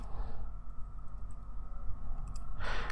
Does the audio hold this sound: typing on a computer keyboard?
yes